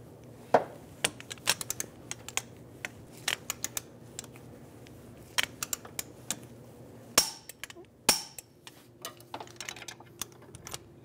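A torque wrench tightens CV axle bolts to 155 foot-pounds on a 2007-2011 Toyota Camry, giving sharp metallic clicks and ratcheting ticks in scattered bursts, with a couple of louder clanks, close by and without speech.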